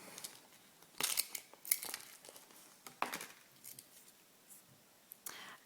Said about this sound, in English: So let's just take it out of the box.